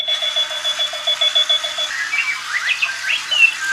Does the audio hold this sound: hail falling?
no